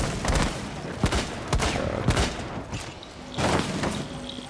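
Video game gunfire blasting a door open, a dense run of loud, sharp shots and booms in quick succession, close and continuous over a few seconds.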